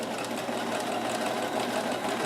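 A Kenmore 158.1914 sewing machine runs a short rick-rack stitch, a steady fast mechanical whir with rapid needle clatter heard up close for a couple of seconds, without voices.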